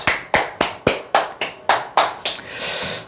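An audience at a call-centre seminar claps in about nine sharp, evenly spaced beats, then breaks into a brief wash of scattered applause.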